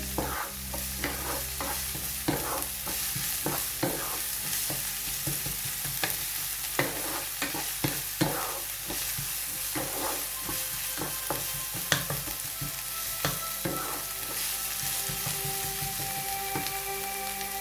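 Samosa filling of raw spices frying and being stirred in a pan, a steady close sizzle with frequent scraping clicks of the spoon throughout, no talking.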